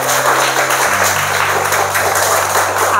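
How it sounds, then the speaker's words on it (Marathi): Schoolchildren and guests at a Marathi school event clap loudly together for the people who donated supplies, a dense wash of applause over a low sustained background hum, with no speech. "यांच्यासाठी एकदा जोरदार टाळ्या वाजवा सगळे."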